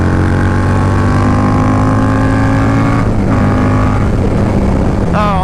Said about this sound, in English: Big ass rolling burnout.